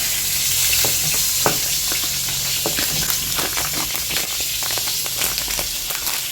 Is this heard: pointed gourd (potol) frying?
yes